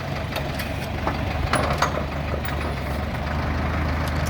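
A Solis 105 tractor's diesel engine idles steadily with a low, constant rumble, a few faint clicks and knocks rising briefly over the drone.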